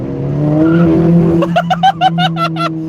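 Car tires spinning in second gear on a thinner-profile set of new tires, a steady loud engine drone breaking into a run of rhythmic squealing chirps over the last half.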